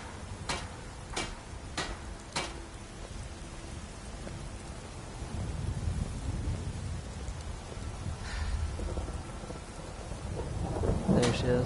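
A thunderstorm in the video game Skyrim during a dragon fight, with steady rain hiss throughout, several sharp crackling thunder strikes early on and a deep rumbling roll building later, mid-distance and fairly loud.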